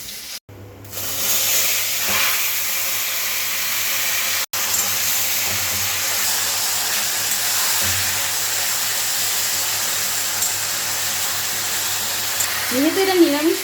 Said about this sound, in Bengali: আমি এর মধ্যে একটু আদা আর মৌরি, শুকনো লঙ্কা, তেজপাতা এগুলো ফোড়নে দিয়েছি